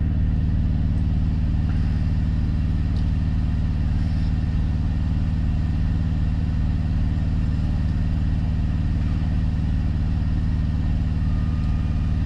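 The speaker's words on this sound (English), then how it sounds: "I got the APU going with the AC" A truck's auxiliary power unit runs steadily with its air conditioning on while the main engine is off, a constant low droning hum with no breaks, fairly loud and close throughout.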